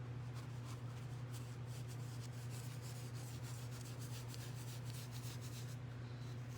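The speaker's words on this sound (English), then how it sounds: "I just took my dark and decrepit, kind of rubbed it in a circular motion." Dark wax rubbed in circular strokes onto a piece of vintage luggage, a steady close soft scraping and brushing texture running continuously over a low constant hum.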